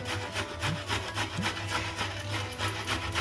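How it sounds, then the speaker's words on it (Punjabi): Carrots being grated by hand on a metal grater for gajar barfi, a steady rhythmic rasping of repeated strokes heard close up with no talking. "ਇੱਧਰ ਅਸੀਂ ਇਹਨਾਂ ਨੂੰ ਮੱਲੋ ਕੱਦੂਕਸ਼ ਕਰ ਲੈਣਾ ਗਾਜਰਾਂ ਨੂੰ ਇਸ ਤਰ੍ਹਾਂ ਅਸੀਂ ਕੱਦੂਕਸ਼ ਕਰਾਂਗੇ"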